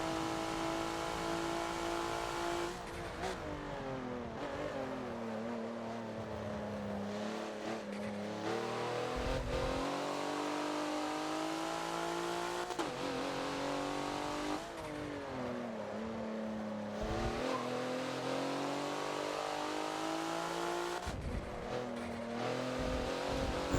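A race car laps the Hockenheimring in the Forza racing game, its engine droning loudly and continuously, revs rising and falling through gear changes and throttle lifts with no pauses.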